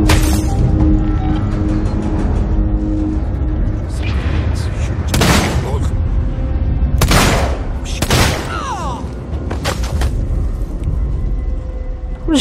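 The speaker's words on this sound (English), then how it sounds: "I'm just shooting them all off, aren't I?" Gunfire in the video game Alien: Isolation: several loud, sharp shots and booms crack out close at irregular intervals over a continuous mechanical background hum, with a brief faint voice in places.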